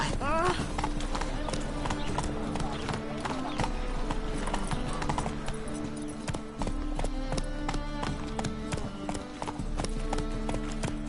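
Hoofbeats of the horse Roach galloping in The Witcher 3, a steady clip-clop over a dense bed of game music, with voices speaking at times.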